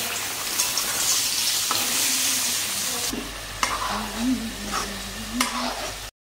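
Oil sizzles steadily as potato, pumpkin and yardlong bean slices fry in a pan, with occasional stirring scrapes; a voice murmurs briefly partway through.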